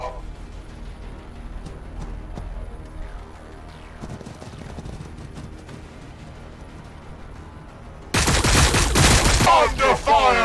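Gunfire bursts from the Warhammer 40k Battlesector strategy game, steady low-level volleys under game music for most of the stretch, then a sudden loud dense salvo of shots near the end.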